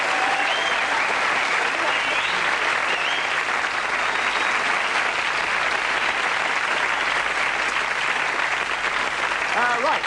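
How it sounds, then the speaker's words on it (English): A studio audience at a television comedy sketch recording gives sustained, dense applause, loud and steady throughout without pause. "Can we have a round of applause?"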